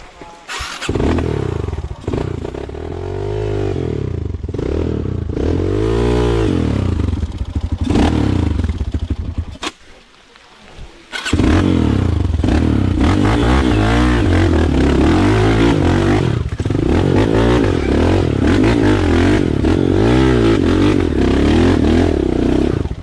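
A motorcycle engine runs loudly and steadily up close, with revving surges and some clattering, briefly dropping quieter before roaring back.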